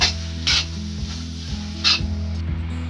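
Capsicum fries with spices in a pan for pav bhaji, a steady close sizzle broken by repeated scraping stirs of the spoon across the pan.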